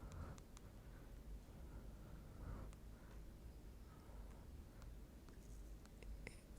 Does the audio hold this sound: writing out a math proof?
yes